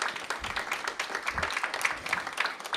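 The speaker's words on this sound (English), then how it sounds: "Give them a big round of applause." An audience claps at the opening of a grandfamily affordable housing community, a quiet, somewhat distant patter of applause that keeps up steadily throughout.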